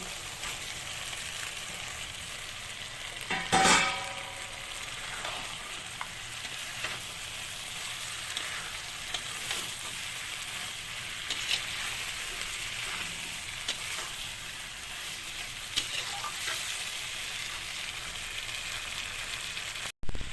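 Fried pointed gourd (potol) sizzles steadily in a pan for a vegetarian Bengali potato and potol curry, with a soft even crackle, one brief louder clatter of stirring early on, and no voices.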